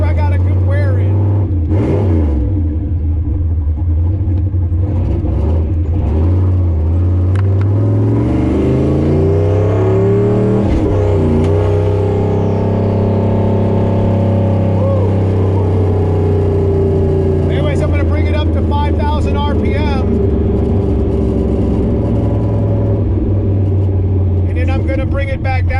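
A Foxbody turbo Mustang engine with freshly coated pistons being broken in, revving up repeatedly and settling back down slowly, a loud rising and falling engine tone with someone talking over it.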